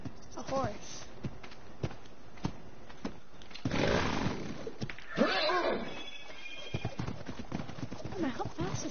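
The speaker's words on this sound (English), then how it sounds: "Oh my, how fast is this horse?" A horse clip-clops and neighs in the video game ARK: Survival, with rhythmic hoofbeats, a clear whinny midway and a buzzing chainsaw-like tool sound, all mixed with a player talking over the game audio.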